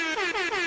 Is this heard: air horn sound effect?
yes